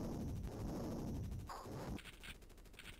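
Gunfire rattles in the 1993 video game Jungle Strike, a dense, fairly quiet burst of rapid shots that thins into lighter, scattered pops.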